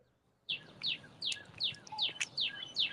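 A bird chirps close by, a series of about eight sharp, rapid descending notes repeated evenly after a quiet start.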